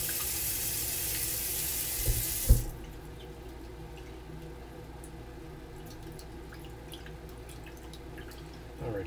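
Tap water running over raisins during rinsing: a loud, steady gush for about two and a half seconds that cuts off, followed by faint drips and handling sounds, with no talk.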